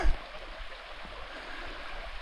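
A small stream trickles across a hiking trail in early fall, a soft, continuous babble heard close by and alone.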